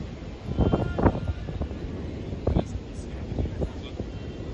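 Strong gusts buffet the microphone at an outdoor athletics track during an 800 m race, giving a low, rumbling roar that swells in bursts. A voice is faintly audible under the wind.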